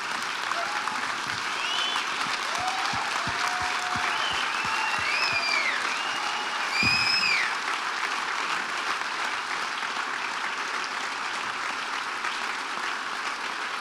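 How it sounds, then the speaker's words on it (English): Warm applause from a banquet audience at a university athletics hall of fame dinner, steady clapping filling the room throughout, with a few brief bird-like whistles and faint voices mixed in. "let's give one last round of applause to these two"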